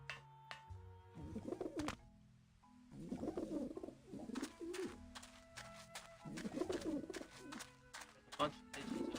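Pigeons in the video game Grim Fandango coo in repeated low, throaty bursts over several seconds, fairly close. Sustained game tones and a few sharp clicks sit behind them.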